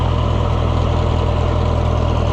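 Oliver 1250 tractor engine idling steadily just after a fuel system cleaning, a dense, even rumble heard close and loud with no pauses.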